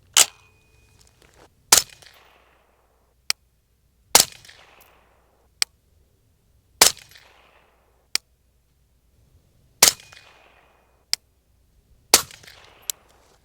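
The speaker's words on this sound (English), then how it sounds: "We'll shoot 5 on the left IPSC, and then we will show you guys kind of what it does with 55 grain." Rifle shots from an LMT SpecWar firing 55 grain PPU ammunition at an outdoor range, five loud sharp cracks evenly spaced about two and a half seconds apart, each with a short echo, plus smaller distant pops from other shooters between them.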